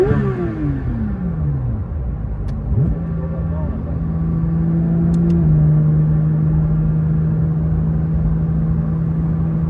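Porsche 992 GT3 RS engine revving toward 9,000 rpm while stationary in D with both pedals held, pitch sweeping down then climbing and holding a loud sustained high-rev drone, close and steady.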